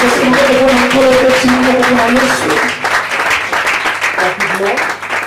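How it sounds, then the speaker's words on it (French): A church congregation applauds and acclaims the Lord with loud sustained clapping and cheering, while a voice sings or calls out over it before the clapping thins toward the end. "Est-ce qu'on peut acclamer pour le Seigneur de Dieu?"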